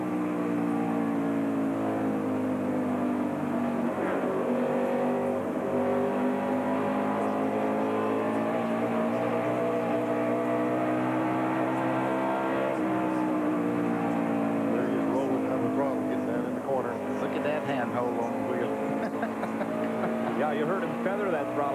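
Onboard a 1992 NASCAR Winston Cup car driven by Mark Martin at the GM Goodwrench 500, the engine drones loud and constant, its pitch rising and falling through shifts and corners over a full lap.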